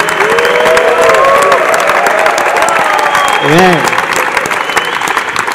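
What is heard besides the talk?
church audience applause and cheering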